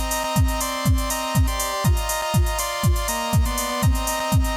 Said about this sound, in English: which ducks down the higher frequencies from things like synths to create that pumping effect often